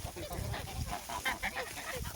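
Geese honk in a quick flurry of overlapping calls, close and fairly loud, with a scuffling background, at a goose-rearing flock.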